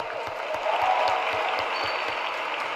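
Clapping in a legislative assembly session in Rio de Janeiro, a broad continuous wash of applause from a large room, with a low rhythmic thumping underneath throughout.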